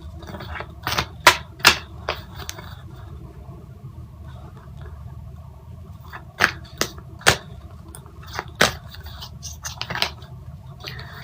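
Quick papery flicks and soft slaps of tarot cards being shuffled come in short bursts, with long gaps of quiet room tone between them, close by and with no talking.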